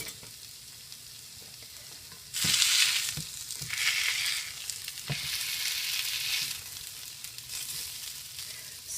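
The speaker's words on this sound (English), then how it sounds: "it might be a little boring for you just to watch hash browns cook" Hash browns fry in a pre-seasoned cast iron skillet, a steady close sizzle that swells louder after a couple of seconds and carries on with crackling bursts, without talk.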